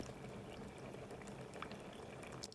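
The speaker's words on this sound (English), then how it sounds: "It is literally boiling that cold water that I put on it." Water bubbling at a rolling boil, a dense, constant gurgling hiss close by with small pops throughout.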